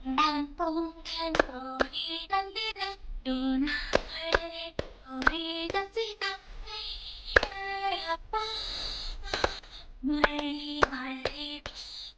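A group sings a children's song, clapping in sharp bursts on certain syllables. The claps come as crisp, irregular hits between sung phrases, close and fairly loud.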